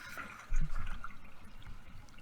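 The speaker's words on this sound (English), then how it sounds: "So I'm running water through there and checking for leaks" Water running through an old bathtub drain on a lead line, a soft gurgling trickle that swells suddenly after a brief quiet start and keeps flowing faintly, heard close in a bathroom.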